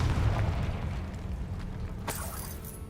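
The Confringo fire-blast spell going off in Hogwarts Legacy: a deep rumbling boom that fades slowly, then a short bright crack near the end.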